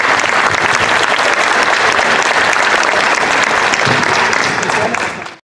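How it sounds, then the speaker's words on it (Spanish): Sustained applause from the audience at a public hearing in the Municipality of Chincha, dense and steady for about five seconds before cutting off abruptly. "Aplausos, por favor."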